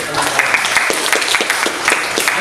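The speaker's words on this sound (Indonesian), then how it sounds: "tepuk tangan" Classroom applause in a lesson on the Quran, with rapid claps of moderate loudness for about two seconds.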